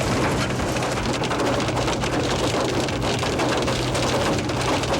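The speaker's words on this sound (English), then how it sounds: "So far, it's been about 10 minutes of hail in the Badlands." Hail and a thunderstorm in Badlands National Park make a dense, steady roar of hard pellets drumming on surfaces, loud and continuous throughout, with low rumbling underneath and no voices.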